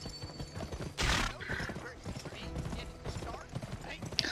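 Horse galloping in the western video game Gun, with a steady clip-clop of hooves, a whinny, and game sound effects mixed in under a voice.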